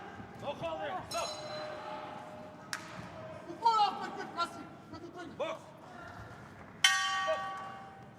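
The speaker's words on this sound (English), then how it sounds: "that goes the bell at the end of the second" A boxing ring bell at a youth world championship bout in Kielce rings out at the end of the second round, two bright, ringing strikes sounding over steady arena noise and an announcer's commentary.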